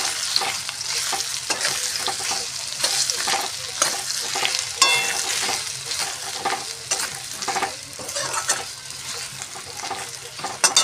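Grated ginger and fried potatoes stirred in hot oil in a pan for a Bengali rohu fish curry: steady sizzling under repeated scrapes and knocks of a spatula, close and moderately loud.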